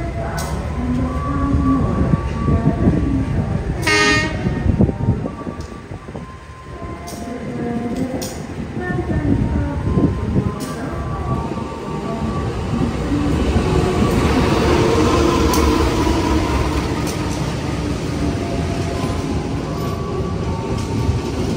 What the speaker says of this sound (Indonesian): sekarang kereta api Singasari sudah tiba di stasiun Tulung Agung